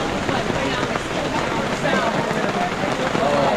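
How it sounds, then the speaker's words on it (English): Hard rain falls steadily at an outdoor chili cook-off and hammock campout in Michigan, a dense continuous hiss from start to finish with no breaks. "It's been raining pretty hard"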